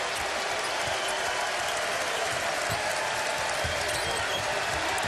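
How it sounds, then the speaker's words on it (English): A college basketball crowd at Wake Forest in Winston-Salem roars and cheers in a dense, sustained wall of noise throughout, with sneaker squeaks and bounces faintly underneath and no clear talk rising above it. "And the crowd here in Winston-Salem loves it."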